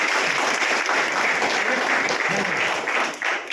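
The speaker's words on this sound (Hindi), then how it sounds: "इस नई नई दोस्ती के लिए एक बार जोरदार ताली" A room full of people gives loud, sustained applause during a talk or seminar session, with dense clapping that holds steady before tapering off near the end.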